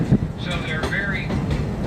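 A propane-powered Kings Island amusement park train, built as a steam engine, rolls along its track with a steady low rumble and some wind buffeting, while someone talks over it throughout.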